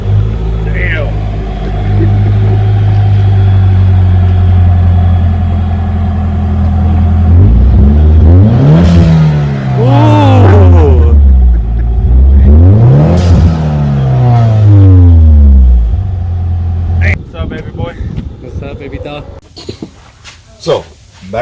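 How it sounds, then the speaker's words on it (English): A Nissan 240 sits idling outside with a deep, steady drone, then revs sharply twice in rising and falling sweeps before settling. Loud and fairly close, it ends with clattering noises and people talking. "There's a 240 outside."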